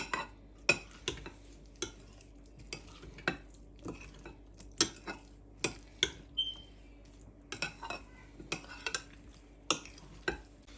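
A spoon works mayonnaise through sweet corn in a bowl, clicking against the sides in a regular beat of sharp taps roughly every half second, close and clear, with no voices.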